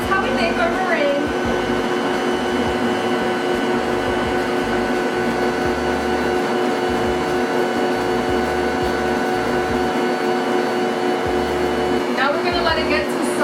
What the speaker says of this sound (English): I'm gonna turn on my mixer and I'm gonna slowly put in half.